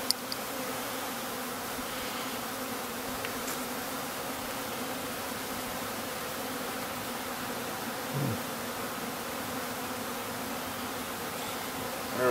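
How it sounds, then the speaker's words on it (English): A honey bee swarm buzzes steadily at close range, a dense continuous drone with no break for about twelve seconds and no voices. "I thought I'd be this close to all these bees like this."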